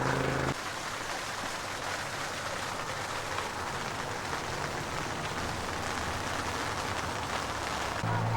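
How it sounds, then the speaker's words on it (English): Rain patters steadily on an SUV tent in a Walmart parking lot, a dense, even hiss of drops on fabric that holds almost unbroken throughout, with faint low rumble underneath. "Tut tut, sounds like rain."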